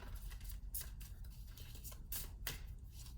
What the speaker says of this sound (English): So let's get them good and shuffled.